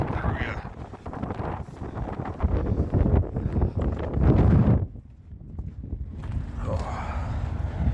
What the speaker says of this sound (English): that wind just cuts right through you